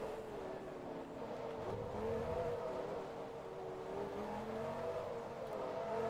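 A Lamborghini engine drones loud and steady at Laguna Seca in Forza Motorsport 2, its racing note rising and falling slightly while sustained revs continue throughout with no pauses.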